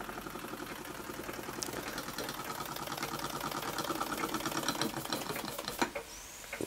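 A Wilson S2 model steam engine runs in a fast, even chuffing rhythm that holds steady, then stops near the end with a small clunk. The sound is faint and close, with no talking.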